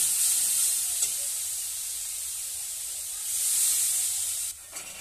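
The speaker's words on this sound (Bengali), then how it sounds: "একটু জল দিয়ে দিচ্ছি, ভালো করে কষিয়ে নিচ্ছি।" Water is poured into spices frying in a pan for a Bengali pumpkin and potato curry, giving a steady loud hiss that swells near the end before dropping off abruptly.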